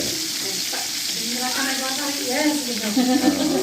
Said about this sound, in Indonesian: Ini dia goreng tempe.